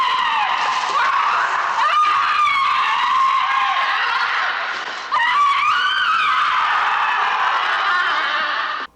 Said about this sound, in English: then she just starts freaking out and screaming, and she has groceries, and she starts throwing them around the tunnel